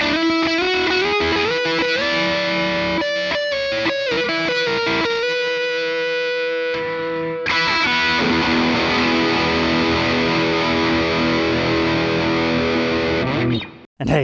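Distorted electric guitar, a 1986 Gibson Les Paul Custom on its neck pickup, plays sustained chords and riffs with a warm, thick tone, loud and continuous, ending abruptly.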